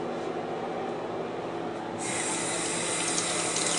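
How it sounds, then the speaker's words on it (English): Tap water runs steadily into a sink while a squid is washed under it, a continuous close hiss that grows slightly louder and brighter partway through. "This is a squid, and I'm about to wash it."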